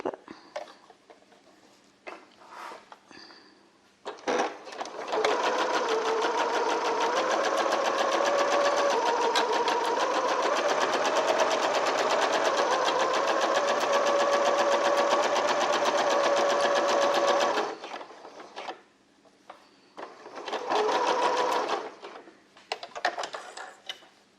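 A sewing machine stitching fabric held with Clover clips runs in one long steady, close mechanical rattle for about thirteen seconds, followed by a shorter burst and light handling noise.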